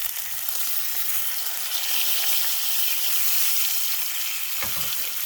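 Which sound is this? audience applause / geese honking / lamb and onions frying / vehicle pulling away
lamb and onions frying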